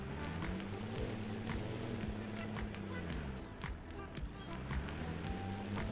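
An MB Trac tractor engine in a farming video game drones steadily with a deep harmonic tone that rises and falls, while someone talks over it.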